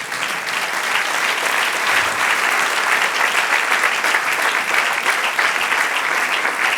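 A church congregation applauds during a sermon, dense sustained clapping from many hands filling the room loudly and evenly for several seconds without a break.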